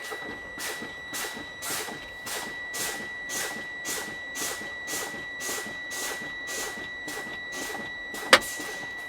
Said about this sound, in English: I'm going to keep fanning my brakes till my button pops out at 20 to 40 psi